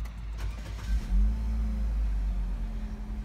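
A 2013 Nissan Serena Highway Star with a 2-liter hybrid engine and automatic transmission, 105,000 km, starts with a brief thump and then settles into a low, steady close idle rumble.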